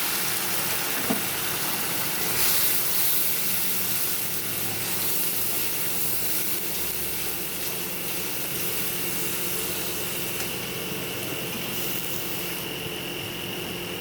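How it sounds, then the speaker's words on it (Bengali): Tomato, cumin, coriander, dried chilli and salt sizzle loudly in a hot pan for a Bengali prawn and masoor dal curry, a steady bright hiss that holds throughout with slight swells and no voices. "পুরো মশলাটা দিয়ে দিচ্ছি টমেটো জিরা ধনে শুকনো লঙ্কা পরিমাণ মতো নুন"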